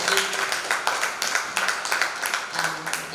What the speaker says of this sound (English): Can we give Haman another round of applause?